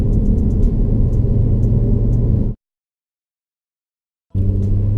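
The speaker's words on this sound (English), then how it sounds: "So 17 extra foot-pounds of torque with this AWE touring exhaust." An Audi B9 S4 engine running through an AWE touring exhaust gives a steady, close, low rumble that cuts out abruptly into silence for a couple of seconds and then resumes.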